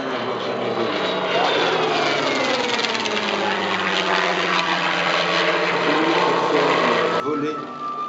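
A Spitfire Mk XIX warplane engine drones loud and steady with a rich, throaty propeller roar that holds for about seven seconds before easing off, heard up close.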